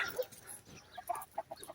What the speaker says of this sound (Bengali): এই যে হাঁস আছে মুরগি আছে